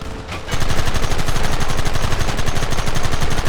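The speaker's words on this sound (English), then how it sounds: "There they are! Open fire!" Rapid gunfire in the Western video game Red Dead Redemption, a loud, dense burst of overlapping shots that starts abruptly after a brief pause and continues in a fast rhythm without letup.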